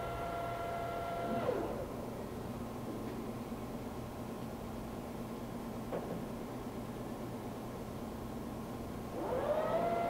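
Tos SN40 engine lathe with a 16-inch swing and 40-inch centers, running at low RPM as a steady, quiet mechanical hum, with faint whining tones rising and falling at the start and end.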